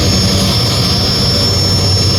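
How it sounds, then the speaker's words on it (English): A turbine-powered pulling tractor in Yorkton, Saskatchewan roars with a steady, loud jet-like whine and a high sustained tone over a dense low rumble, with no talk. "the only turbine-powered tractor in Canada, right here in Yorkton, Saskatchewan"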